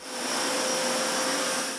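A Narwal Freo Z10 Ultra robot vacuum runs at its strongest suction setting, a loud, steady whirring hiss with a thin high whine, continuous and close with no other sounds.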